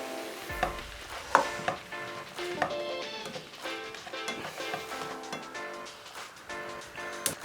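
Mushrooms and stock are stirred in a hot pan, a soft sizzle running beneath scattered spoon taps and scrapes and light kitchen clatter, close and fairly quiet.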